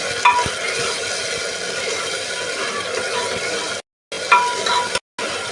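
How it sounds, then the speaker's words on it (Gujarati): Ginger garlic paste stirred with onions in a pot, a steady scraping and sizzling texture that runs continuously at close range, broken by two short gaps of silence. "હવે આપણે આદુ લસણનો પેસ્ટ નાખી દીધો છે, ઘડીક આપણે એને હલાવીશું।"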